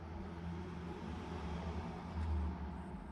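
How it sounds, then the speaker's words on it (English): A car passing on a road right beside an outdoor spot, a steady broad rumble of traffic that swells slightly near the end, with no talk. "there's literally a road like right here, so that's why the car's so loud"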